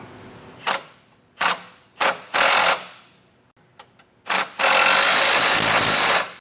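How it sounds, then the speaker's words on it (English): A socket wrench tightens 19mm bolts on an EcoHitch hidden front mount trailer hitch receiver, giving several short, loud bursts of ratcheting followed by a longer sustained run of clicking near the mic. "now I'm going to go and tighten the M12 bolt down. You will need a 19mm socket and wrench"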